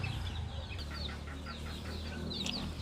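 One-day-old chicks in a brooder lined with rice husks peep in a cluster of short, high chirps, repeated quickly and close by over a low steady hum.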